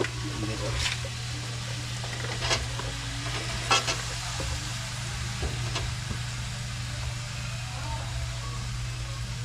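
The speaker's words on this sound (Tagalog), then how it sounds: "Tapos ilunod ko na itong kalabasa at carrots." Squash and carrots cook in a pan with a low, steady sizzle beneath a constant hum, broken by a few sharp clinks of a utensil against the pan.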